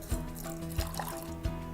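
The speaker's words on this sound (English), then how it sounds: "I'm just going to take some water, and so just pour a little bit of that" Water poured onto burning salts in a classroom chemistry demonstration, a quiet trickling and dribbling with three short low thumps spaced about two-thirds of a second apart against a steady background hum.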